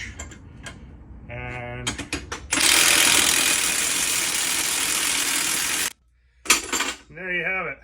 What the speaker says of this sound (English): So you'll take your impact wrench